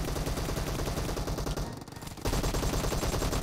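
Sustained automatic gunfire from a PUBG Mobile match, dense rapid bursts that fill nearly the whole clip, breaking off briefly in the middle before resuming loud and close.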